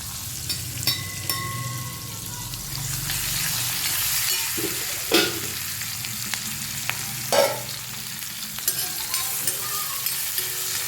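Green leafy vegetables fry and sizzle on a seventy-to-eighty-year-old black iron bhakri griddle, a steady close hiss broken by several scraping stirs and clinks.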